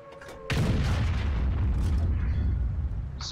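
A World of Tanks E-100 tank under fire comes through as a sudden heavy boom followed by a long, loud rumbling roar that fades only slightly.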